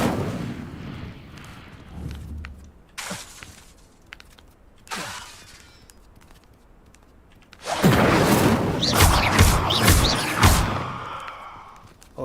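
An Incendio fire spell is cast in the video game Hogwarts Legacy, with booming blasts and thuds in combat, then a loud sustained burst of crackling, roaring fire and impacts toward the end.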